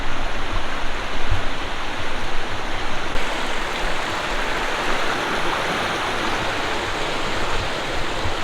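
River water rushing steadily past in Dean's Village, Edinburgh, a loud, close, continuous broadband roar that stays even throughout with no voices over it.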